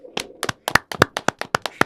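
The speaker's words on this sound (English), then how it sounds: "Applause" About a dozen sharp, close hand claps ring out in a quick, somewhat uneven rhythm from a single person or small group during a podcast.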